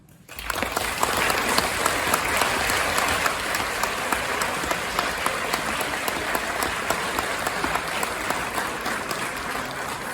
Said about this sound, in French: je vous demande d'applaudir tous ces enseignants